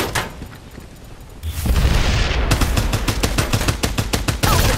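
Rapid bursts of automatic gunfire ring out in the Farlight 84 battle game, starting softer and then sustained and loud, with sharp repeated shots and a heavy low rumble.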